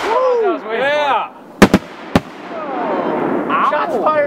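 Three sharp firework bangs from a New Year's Eve backyard display with a lance piece, the first two close together and a third a moment later, loud and near, while people shout and cheer before and after.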